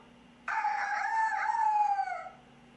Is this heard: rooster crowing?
yes